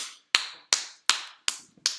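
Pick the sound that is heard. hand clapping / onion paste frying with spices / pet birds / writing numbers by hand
hand clapping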